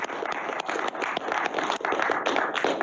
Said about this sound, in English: I think we need to give another round of applause for Commissioner.